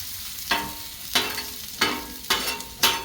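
Shortening melts and sizzles on a Blackstone griddle, broken by five sharp, evenly spaced scraping bursts, loud and close, with no talk.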